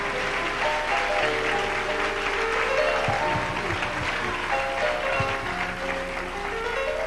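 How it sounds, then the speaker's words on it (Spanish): Congregation clapping for the King during a church sermon, a sustained wash of applause mixed with backing music tones and a few louder claps near the middle. "Dele un aplauso al Rey en esta noche, en esta mañana"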